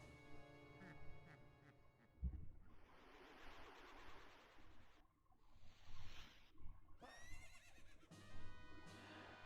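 A horse whinnies amid the Phantom Ganon boss fight in The Legend of Zelda: Ocarina of Time, a high rising neigh set against steady game music, a loud thud and bursts of spectral effects.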